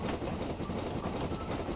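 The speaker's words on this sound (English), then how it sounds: "I'm actually happy with the way the train is performing." Steam train on the Somerset & Dorset line in Train Simulator, a loud close rolling rumble with rhythmic wheel clatter over rail joints, continuous and alone.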